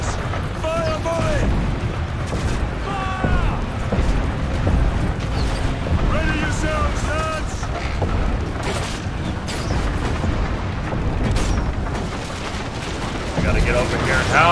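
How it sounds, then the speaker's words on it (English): Roman archers loose an arrow volley in a battle in the video game Ryse: Son of Rome. It is dense, loud combat noise with booming impacts and clatter, and shouting voices run throughout. "Archers, fire volley!"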